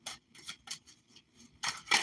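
Stiff hand-painted cards being shuffled in short dry scraping bursts, close and quiet, with no talking.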